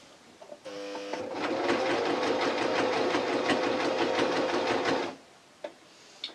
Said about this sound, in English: Now I'm sewing on the bobbin line, sewing to the edge of the fabric. As gently as this machine will go.